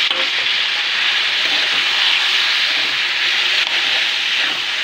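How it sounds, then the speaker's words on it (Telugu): Steady close sizzle of potato curry frying in a pan as tomatoes go in, a continuous bright hiss with faint stirring scrapes and no talking. "టమాటాలు వేసేసుకోవాలి"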